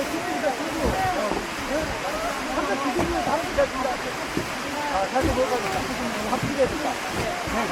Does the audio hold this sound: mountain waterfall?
yes